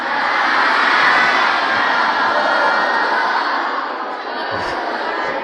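An airplane flying overhead, heard as a loud steady engine roar that holds for several seconds and eases slightly toward the end, with no clear talk over it.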